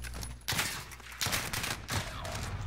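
Burst-fire gun rounds in a Modern Warfare 3v3 gunfight crack out in three quick, close clusters under continuous game noise, with no one speaking.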